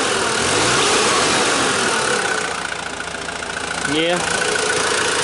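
A Mazda WLT diesel engine in a Ranger or B2500-type pickup idles loudly and steadily after its injection timing was advanced, a close continuous rumble with one brief spoken word near the end.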